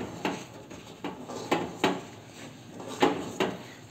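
A spoon scrapes and knocks against a pot in a steady, uneven rhythm as a thick, sticky katla fish pulao is stirred nonstop over high heat; close, moderately loud strokes with no talking.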